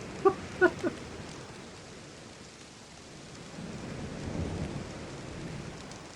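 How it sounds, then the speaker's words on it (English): Steady rain hiss in the video game Myst, Stoneship Age, with a low rumble of distant thunder building in the second half, preceded by a few sharp knocks at the start. "Constantly raining."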